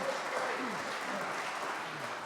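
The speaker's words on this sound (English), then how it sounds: "We need to clap for them." A church audience at a concert applauds in a dense, steady round of clapping that fills the whole moment, with a voice speaking over it.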